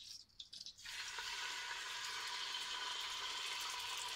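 Chicken pieces hit a hot pot and begin sautéing with a steady, loud sizzle after a few brief clatters at the start.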